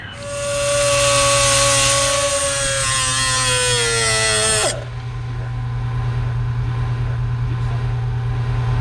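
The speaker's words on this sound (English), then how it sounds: "Get yourself a die grinder, folks." A die grinder cuts through the choke cable for a manual choke on a 1968 Ford F350's Edelbrock 1406 carburetor, a loud high whine that slowly drops in pitch under load, then stops abruptly, leaving a steady low engine-like hum.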